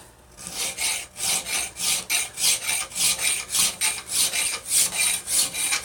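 A hand file rasps back and forth across a metal vise part in a steady rhythm, about fifteen close, even strokes with no talking.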